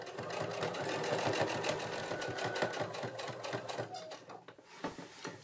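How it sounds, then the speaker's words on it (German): A sewing machine sews a straight stitch through fabric, a fast, steady mechanical clatter of needle strokes that runs close and clear, then slows and stops near the end. "Ich nähe das hier einfach hier entlang mit einem ganz normalen Geradeausstich."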